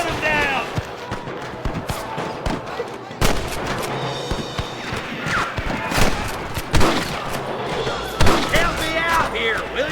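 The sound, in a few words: gunfire from the video game Red Dead Redemption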